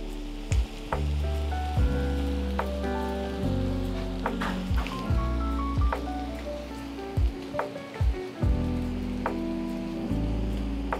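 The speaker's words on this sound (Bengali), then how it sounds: "আদা কুচি, এটা একটু সুন্দর করে ফ্রাই করব।" Chopped ginger frying in hot oil in a pan, a steady close sizzle with scattered pops and light stirring knocks running throughout, no voices.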